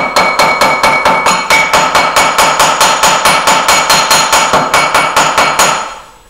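A hammer taps the sides of a concrete cube mould in a fast, even series of about two dozen sharp, close, loud knocks, each ringing briefly, with no talk.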